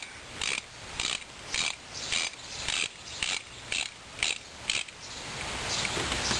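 A ratchet wrench tightens a knock sensor on a 2001 Subaru. About ten evenly spaced, close-up clicking ratchet strokes are heard, with no voice.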